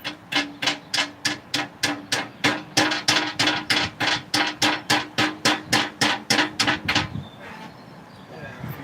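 Hammer blows on car timing chain cover parts, about twenty-five sharp, evenly spaced metallic strikes in a steady quick rhythm, loud and close, stopping near the end.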